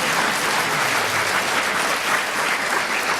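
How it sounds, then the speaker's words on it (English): Audience at a Buddhist Dharma talk bursts into dense, sustained applause, with many hands clapping at a steady loudness throughout. "If you're going to clap, clap properly."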